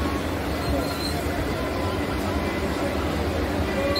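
A Mumbai harbour line local train pulls out of Wadala Road station, heard from on board as a steady, dense rumble of wheels and carriage noise with no break.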